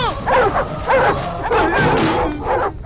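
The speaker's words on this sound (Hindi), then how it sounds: "भौंकना बंद कर" A dog barks and yips repeatedly in quick, excited bursts, close and loud, with whining tones between the barks.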